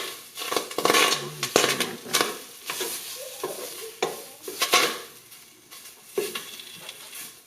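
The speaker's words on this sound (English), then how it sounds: "we've added the tomato paste, and it is really browning" Tomato paste browns in a hot pan while a spoon stirs it, producing close, uneven scraping and knocking bursts over a low sizzle, with no speech.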